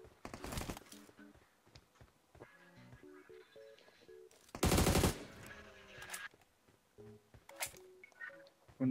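Bursts of automatic gunfire from PUBG Mobile, a loud rapid volley near the start and another heavy burst around the middle, with game interface tones and music-like beeps scattered between.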